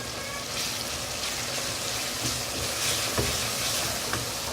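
Spices including turmeric powder, ground coriander and dried fenugreek leaves roasting in a pan for a white lobia curry, a close continuous sizzle and crackle with occasional stirring scrapes and taps.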